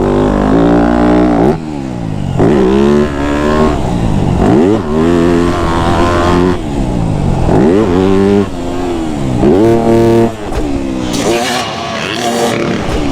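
A dirt bike charges through a straight-rhythm row of supercross whoops, its engine loud and close, revving in repeated rising and falling surges as the bike hits each roller in turn.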